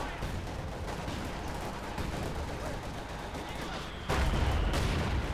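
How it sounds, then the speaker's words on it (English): Mortar fire lands during a Company of Heroes 2 battle, a steady rumble of distant explosions and gunfire that jumps louder near the end, with a commentator talking over the noise. "Mortar fire going down there."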